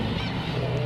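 Black-tailed gulls call in a huge colony of more than ten thousand birds on Gujido island, South Korea, a dense burst of loud, harsh, honking cries overlapping up close.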